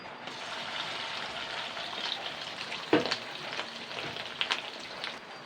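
Oil sizzles and crackles steadily as fish roe fritters fry, with a sharp clink of a utensil partway through and a few small pops.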